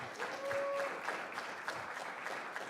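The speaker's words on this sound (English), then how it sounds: "Let's give all of our graduating seniors a round of applause." An audience at a college club sports banquet claps for the graduating seniors: a dense, steady round of applause from a crowd indoors that carries on for the whole stretch without talk.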